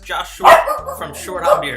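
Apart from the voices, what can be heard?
dog barking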